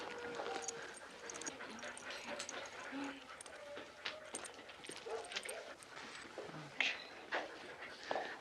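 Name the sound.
giant schnauzer dog whimpering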